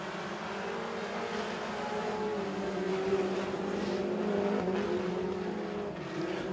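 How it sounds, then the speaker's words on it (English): Mini stock race cars at Crossville Speedway roar steadily around the track in a heat race, a continuous, fairly distant engine drone with a slight swell midway and no speech. "Mini stock heat race number one."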